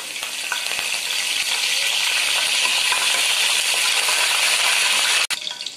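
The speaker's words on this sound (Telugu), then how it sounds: "ఇందులో ఇప్పుడు మనం కరివేపాకు వేసుకుందాం" Curry leaves crackle and sizzle in hot oil in a pan for an onion egg curry, a loud, continuous hiss close to the microphone, ending with a sharp clink near the end.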